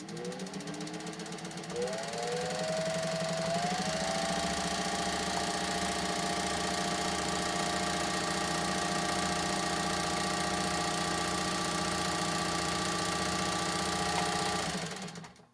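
A restored Singer 201 sewing machine motor spins up and runs fast, a steady whirring hum with a rapid mechanical clatter, close and continuous for most of the stretch before cutting off at the end.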